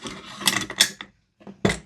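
The bolt of an airsoft rifle, a DE Ghetto Blaster or Salvo MCX, is popped back into place with a few close, short mechanical clicks and scrapes, then a brief pause and one final click.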